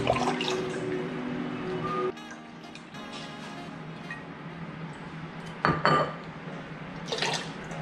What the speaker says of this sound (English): 2 cups Worcestershire sauce.